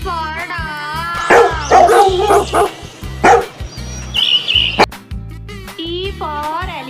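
A dog barks in a children's alphabet song, short yips recurring over a steady musical backing with a sung voice throughout.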